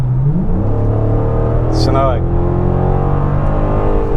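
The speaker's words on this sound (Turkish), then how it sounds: "Bir de Amerikan V8'inin sesi çok güzel." The 6.1-litre Hemi V8 of a Chrysler 300C SRT8 rumbles loudly and steadily from inside the car, its deep engine tone rising briefly in pitch as it revs, while occupants talk over it.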